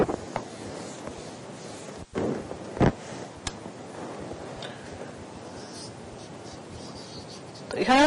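Faint scratchy strokes of writing on a board during a maths lesson, in short irregular bursts with a few louder taps, under a teacher's quiet speech.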